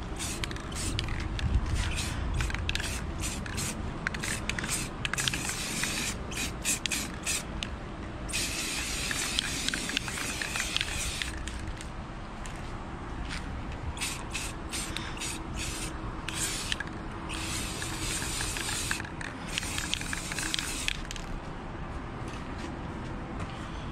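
Spray paint is applied to Kawasaki KFX400 ATV wheels in long hissing bursts that start and stop repeatedly, close by, with faint handling rubs between passes.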